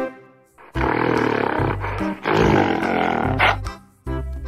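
A black gorilla roars in several loud, deep bursts separated by short pauses, close and alone.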